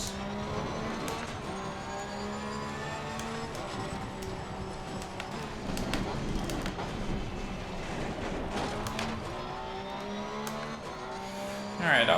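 Porsche 911 GT3 R race car in Assetto Corsa Competizione on the Mount Panorama circuit, its engine droning and shifting through revs with a steady loud roar, occasional tyre scrub and a burst of noise at the end.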